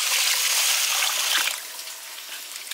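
Long-grain rice being washed in water for pulao: a loud close splashing and swishing of water, strongest at first, then settling into a softer, lighter trickle and slosh, with no talking.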